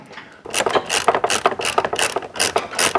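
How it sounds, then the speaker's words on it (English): A ratchet wrench backing bolts out of the step bracket on a Lexus LX 570: a rapid run of close, loud clicking bursts in an uneven rhythm after a brief quiet start, with no talking. "we're going to take the bolts out of the bracket that's holding the steps to the body"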